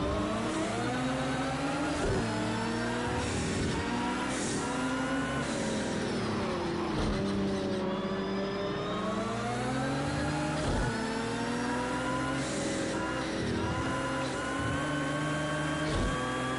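Race car engine in Project Cars 2 revving hard and continuously, rising and falling through gear changes and braking for corners, loud and alone with no voices.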